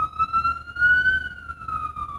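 A single emergency siren sweeps slowly in a steady, sustained wail, moderately loud and somewhat distant over low background rumble in New York.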